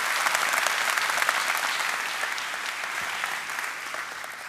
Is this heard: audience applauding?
yes